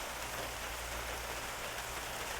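Steady, dense rainfall hisses evenly on surfaces without a break, a constant close wash of drops with no speech.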